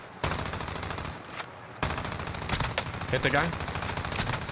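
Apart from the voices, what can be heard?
gunfire from assault rifles in a video game (Call of Duty)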